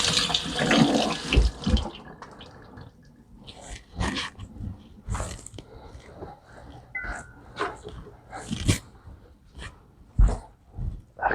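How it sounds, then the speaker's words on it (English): Tap water runs briefly at the start while hands are washed, a close splashing rush that stops after about two seconds, followed by scattered clinks and soft kitchen handling noises. "I'm gonna go over here and wash my hands real quick."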